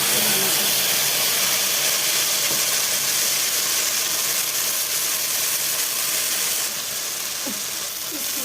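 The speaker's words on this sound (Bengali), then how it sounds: "তো বন্ধুরা পেস্ট করে রাখা মশলাটা আমি দিয়ে দিচ্ছি" Spice paste hitting hot mustard oil in a pan gives a loud, steady sizzling hiss that fills the whole stretch without letup.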